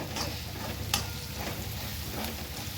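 Spice masala with turmeric and garam masala sautéing in hot oil for a potato vada filling, a steady close sizzle with soft scraping stirs throughout, no talking.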